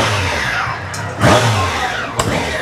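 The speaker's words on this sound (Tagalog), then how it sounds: "Soundcheck ng stock exhaust." A 2025 Triumph Daytona 660 motorcycle revs through its stock exhaust, close and loud, with a quick rising throttle blip in the middle and a short second burst near the end.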